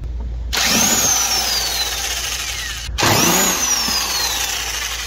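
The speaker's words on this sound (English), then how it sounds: "I'm going to remove a number of bolts with an 8mm socket." A power driver spins an 8mm socket to remove bolts under a jacked-up BMW 128i with the wheels off. Two close, loud bursts of whirring have a whine that sweeps down as each bolt runs out.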